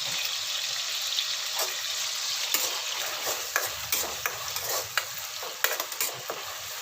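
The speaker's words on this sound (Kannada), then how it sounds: "ಇದು ಫ್ರೈ ಆಗಲಿ. ಇದಕ್ಕೆ ಸ್ವಲ್ಪ ಅರಿಶಿನ ಹಾಕಿ." Food sizzles and fries steadily in a pan with turmeric added, a close hissing crackle punctuated by sharp clicks and stirring taps.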